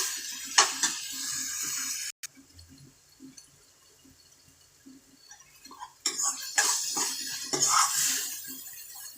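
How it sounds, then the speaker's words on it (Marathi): Tomatoes being stirred and fried in a pan for a vegetable dish, with soft hiss and scraping clinks of a spoon against metal in two bursts separated by a quiet stretch. "अजून मी परतवतेच आहे त्यांना जोपर्यंत पूर्णतः सॉफ्ट होत नाही आहे तोपर्यंत परतत राहायचं आहे"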